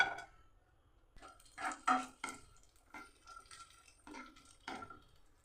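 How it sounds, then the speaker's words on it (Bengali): Cashews and raisins are stirred in ghee in a pan, with scattered clinks and scrapes of a spoon against metal and a faint frying sizzle, near and quiet with no talk. "কাজু কিশমিশটা আমি ভেজে নেব।"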